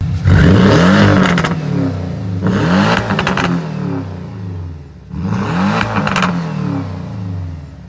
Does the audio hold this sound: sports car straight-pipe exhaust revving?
yes